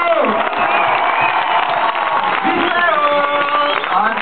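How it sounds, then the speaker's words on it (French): An audience claps and cheers for Fantino at a comedy show, loud steady applause throughout with whoops and a few voices mixed in. "On applaudit Fantino!"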